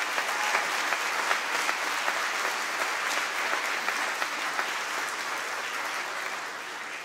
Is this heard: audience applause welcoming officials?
yes